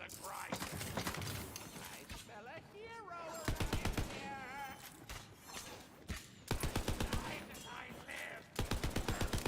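Gunfire from a slow-firing weapon in the fantasy shooter Tiny Tina's Wonderlands, coming as several separate bursts of sharp, loud repeated shots with game sounds and effects between them.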